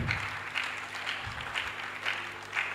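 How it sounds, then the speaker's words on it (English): Audience applause at a children's book launch, a steady wash of clapping at moderate distance with periodic swells, no voices standing out. "Please clap for him."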